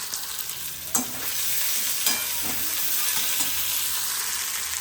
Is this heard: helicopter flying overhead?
no